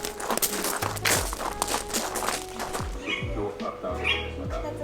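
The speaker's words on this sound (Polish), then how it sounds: "O, papugi tam są." Parrots at a donkey farm in Cyprus let out scattered squawks, a few sharp calls rising over low rumbling background noise, while people chat nearby.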